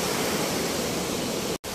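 Roaring waterfall in the jungle, a dense, steady broadband rush of falling water close by, constant and loud with a brief dropout near the end.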